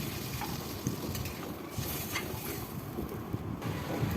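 Water poured into a simmering fish curry with pointed gourd and bele fish, then stirred: a quiet, steady sizzling hiss with faint scraping and bubbling throughout, no speech.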